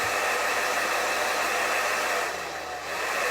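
A hair dryer blows steadily on thinned yellow paint, a loud, continuous close-up roar that dips briefly near the end before resuming.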